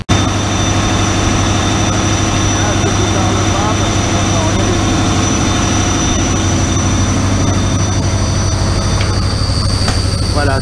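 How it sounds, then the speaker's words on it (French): Cogeneration plant engine producing electricity, running at full power indoors with a loud, constant mechanical roar and steady tonal hum that stays even throughout. "Là on va aller voir le moteur en marche."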